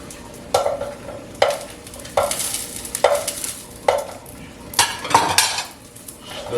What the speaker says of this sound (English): Throw in the pork that we just cooked.